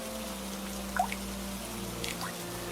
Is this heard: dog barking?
no